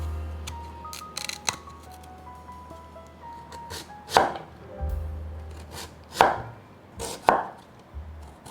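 A knife slices a scored lotus root into rings, with crisp, irregular cuts and a few louder chops close by.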